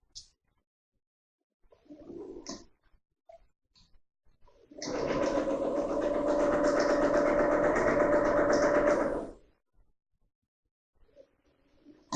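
A sewing machine runs a long stitch down a dress seam for a Butterick 5137 performance dress, one loud steady whirring run of about four seconds, preceded and followed by quiet handling sounds and short clicks.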